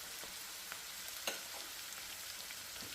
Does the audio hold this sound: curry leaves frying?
yes